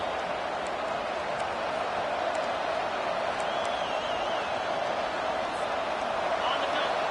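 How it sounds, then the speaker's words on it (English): A stadium crowd roars at an NC State versus Virginia Tech college football game, a broad, steady wall of noise swelling on third down, with a play-by-play voice speaking over it. "Decibels rising as the crowd gets behind this defense on third down."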